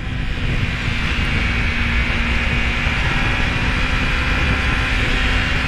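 A Kawasaki Ninja 300 motorcycle, freshly serviced, runs steadily while riding in the late afternoon, giving a loud continuous engine drone mixed with heavy wind rush and no talking.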